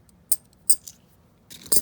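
Silver coins, including Kennedy half dollars and Walking Liberty halves, clink together in a few sharp, bright metallic taps close up, faint and spaced out, with no talking.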